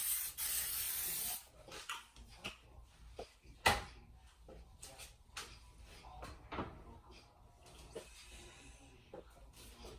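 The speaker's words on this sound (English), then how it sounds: "Put a little butter spray on this one as well." Butter spray hissing onto stuffed biscuits in a short, steady burst, followed by quieter rubbing, tapping and kitchen handling noises, close and faint.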